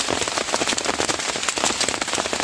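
Heavy rain falls steadily during a carp fishing trip in bad weather, a dense continuous hiss of drops pattering on surfaces close by, with no voices.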